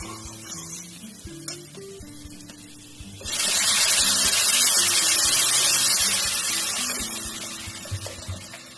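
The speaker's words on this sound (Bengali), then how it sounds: "এবার আমি এর মধ্যে জল দিয়ে দেবো।" Water pours steadily into a pot of vegetable dalia khichdi with broken wheat and moong dal, a loud close rush that starts partway through and holds for several seconds, after quieter kitchen sounds and background music.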